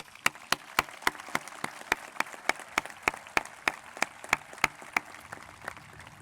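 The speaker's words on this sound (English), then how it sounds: "Let's give the parents a round of applause." Graduation ceremony audience applauding the parents, with a steady, evenly spaced run of close, crisp hand claps over a faint background of crowd clapping.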